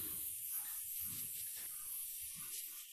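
An airbrush blowing out leftover acrylic paint gives a steady, close hiss of rushing air with faint pulsing sputters underneath, continuous for a few seconds with no voices.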